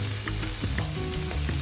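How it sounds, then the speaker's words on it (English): Meat for a Mexican parrillada fries in a hot pan with a close, constant sizzle and crackle, punctuated by small pops, with no talking. "You can hear the sizzle."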